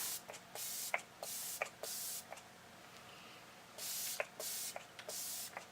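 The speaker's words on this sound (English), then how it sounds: "shake it up and then just lightly spritz over the face" Setting spray is misted lightly over a face after makeup, arriving as several short, close, airy hisses in two bursts of pumps, with faint clicks of the nozzle between sprays.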